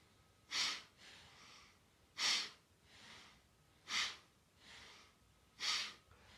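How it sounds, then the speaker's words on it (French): Powerful rhythmic breathing during a kriya yoga exercise: four forceful, sharp breaths at even intervals, each followed by a softer, longer breath, close and alone. "Respiration puissante, intense."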